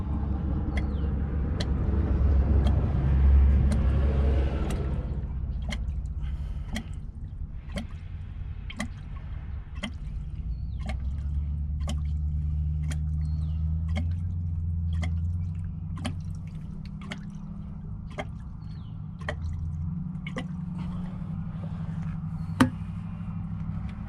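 Diesel fuel pours steadily into a Davco 382 water fuel separator filter on a 2008 Detroit 60 series engine, a continuous low liquid rush with scattered sharp drips and ticks throughout, no voices.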